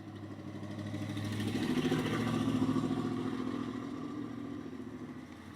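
A vehicle with a rough, unhealthy-sounding V8 engine drives past, its uneven mid-pitched engine note rising as it nears and then fading, loud and continuous without speech.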